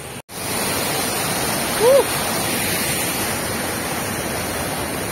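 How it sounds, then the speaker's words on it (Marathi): A small waterfall on slippery rocks in the countryside gives a steady, broadband rush of falling water that fills the clip, with a short cut near the start and a brief voice-like tone partway through. "हे छोटस धबधबा आहे."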